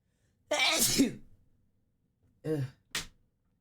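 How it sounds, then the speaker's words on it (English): A single loud sneeze bursts out, followed by a pause and a couple of short sharp breaths or sniffs, close to the listener. "I have to sneeze."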